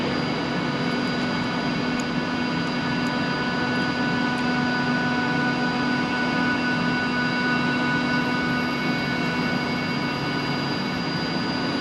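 Passenger train in Pride livery passing Watford Junction on the West Coast Main Line, a loud continuous rumble with steady tonal hum and no talking.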